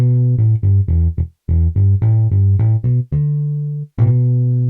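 IK Multimedia MODO BASS bass guitar plucking a run of short, resonant low notes in steady rhythm, ending on a couple of longer sustained harmonic tones that ring out cleanly.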